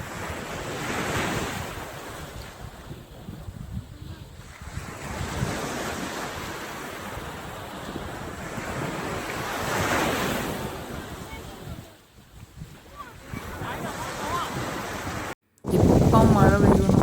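Unusually large waves crash onto a Maldives shore in repeated rolling surges, loud and close, with wind buffeting the microphone and a brief dropout before a sharper burst at the end.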